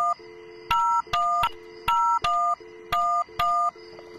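Touch-tone telephone dialing in the video game Job Simulator: a steady run of about eight clean keypad beeps, each a short two-tone chirp with short gaps between, clear and alone.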